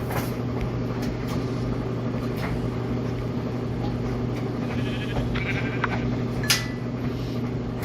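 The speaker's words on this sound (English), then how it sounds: "Goody, a sheep." Sheep bleats from the Minecraft video game, Pocket Edition (Bedrock), heard as a couple of brief mid-level calls over a steady droning background hum.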